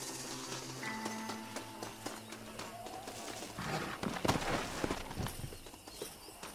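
Horse hooves clip-clop in the Western video game Red Dead Redemption, a steady rhythmic trot over a background of game music and ambience, moderately loud and without speech.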